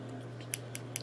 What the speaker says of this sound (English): Good pair of scissors.